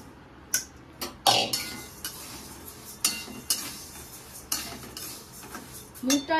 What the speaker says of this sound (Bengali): আমি এখানে খিচুড়ির জন্য যে মুগ ডালটা লাগবে ওটাকে ভেজে নেব